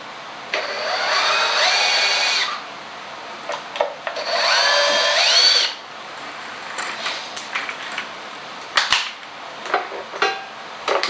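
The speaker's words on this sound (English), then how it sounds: "Let me get a drill." A power drill whirs in two bursts of a couple of seconds each while a 1971 VW Beetle is taken apart, then small clicks and taps of parts being handled follow.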